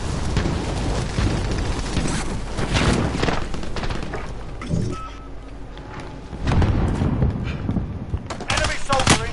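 Bursts of gunfire and explosive booms from online Call of Duty: Modern Warfare crackle throughout, dense and loud, with a lull in the middle before heavy firing resumes.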